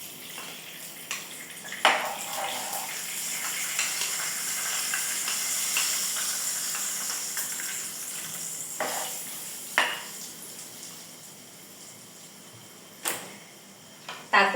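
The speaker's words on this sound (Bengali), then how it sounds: "এখন এই মশলাটি ঢেলে দেব।" Spice mix poured into hot oil for a green banana kofta curry, a sustained loud sizzle and hiss with occasional sharp crackles and stirring scrapes, no talk.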